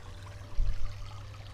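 Creek water runs through a gold sluice in a steady low rush, with a brief swell of splashing near the middle of the short stretch.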